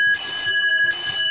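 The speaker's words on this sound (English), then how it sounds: "When the food is ready, you will hear 3 bell rings like this." An electronic bell or chime at a retreat rings out twice in this short stretch, each a bright sustained tone with a clear gap between rings, loud and close with no talk.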